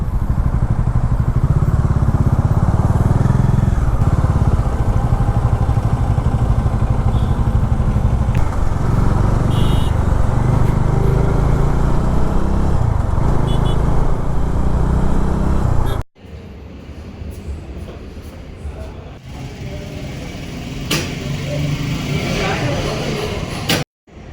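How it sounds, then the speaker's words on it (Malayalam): Loud, continuous engine noise and rumbling of nearby motorbikes and cars in a fully blocked Christmas-season traffic jam, then an abrupt cut to quieter road ambience. "ഇപ്പോൾ ക്രിസ്മസ് ടൈം ആയതുകൊണ്ട് റോഡ് കംപ്ലീറ്റ് ബ്ലോക്കാണ്. നല്ല തിരക്കുണ്ട് റോഡിൽ."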